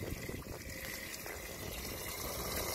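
A small water pump on a T128 kayak runs with a steady watery trickle and hum, a continuous close wash of liquid with no talk over it.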